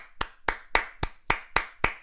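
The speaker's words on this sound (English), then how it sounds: "give a round of applause for Spank" Seven sharp, evenly spaced claps from a single pair of hands, close and fairly loud, with a short quiet gap after each one, cheering someone on.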